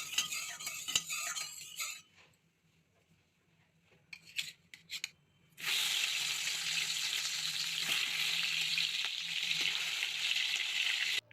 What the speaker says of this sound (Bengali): এবার কড়াই গরম করে পরিমাণ মতো তেল দিয়ে চিংড়ি মাছগুলোকে ভালো করে ভেজে নেব।